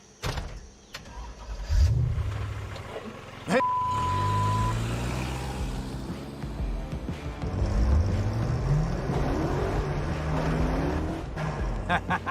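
The rebuilt car engine pulls loud and close as it accelerates along a road, and its tone rises and falls between revs while voices talk over it.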